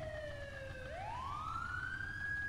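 Emergency vehicle sirens in the video game GTA with the LCPDFR police mod wail loudly and continuously, the tone gliding down and then sweeping back up, alone without talking.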